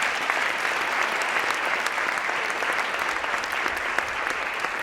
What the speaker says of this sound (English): Let's give Indian River one more round of applause.